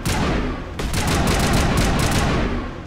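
Rapid, dense gunfire in the video game Mass Effect Legendary, a loud continuous burst of shots lasting a few seconds with a brief break near the start.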